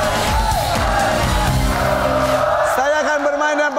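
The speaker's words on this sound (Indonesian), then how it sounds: "tepuk tangan untuk keluarga dari Sukabumi" A studio game-show crowd cheers and whoops loudly for a family from Sukabumi, a dense continuous roar of voices lasting several seconds before easing off.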